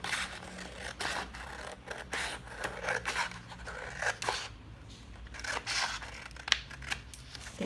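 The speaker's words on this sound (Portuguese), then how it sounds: "eu vou cortar esse excesso de papel que tem aqui na marca de corte" Scissors snip repeatedly through excess paper on a sewing pattern for a nightgown and robe, the close, crisp cuts coming in a quick, uneven rhythm with light paper rustling between them.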